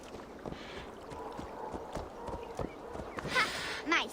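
A horse's hooves clip-clop at an easy walking pace in Assassin's Creed Valhalla, soft and steady, followed near the end by a short whinny and snort over faint background ambience.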